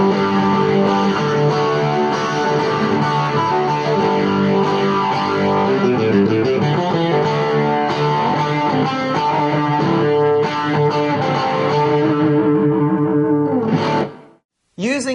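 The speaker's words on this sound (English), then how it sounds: "On this setting, I am at Crunch 2, and this has a little more of like a Marshall grind to it." An electric guitar plays through a Vox DA5 amp on its Crunch 2 setting, with mild gain and chorus reverb at mid effect level, giving a gritty, sustained tone with layered chords that rings out before a short pause.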